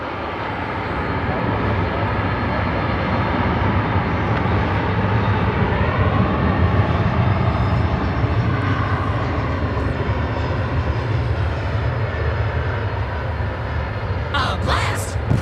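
An MD-11 trijet's engines at DFW Airport, outbound for Louisville, roar continuously and loudly with a deep low-end rumble, steady throughout before a few sharp clicks at the very end.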